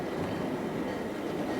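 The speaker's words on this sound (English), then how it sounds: "As she brings the train into a station" A train braking as it pulls into a station gives a steady, close rumble with a broad wash of rolling-stock noise, unbroken throughout.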